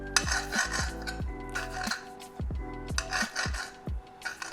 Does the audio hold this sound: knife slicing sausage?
yes